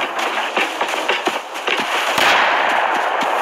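Rapid gunfire in the video game Rust, a string of sharp close shots cracking in quick irregular bursts, fairly loud with no talk over them.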